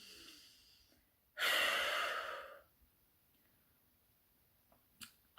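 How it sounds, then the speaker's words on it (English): A single deep breath drawn in and let out, a soft airy rush lasting just over a second, then quiet with a faint click near the end; no talking. "Deep breath in and out."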